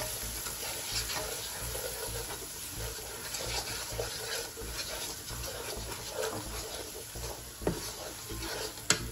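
Biryani masala and salt are being mixed in a pan, with a steady broadband sizzle and frying hiss, soft stirring scrapes throughout and a couple of sharper knocks near the end.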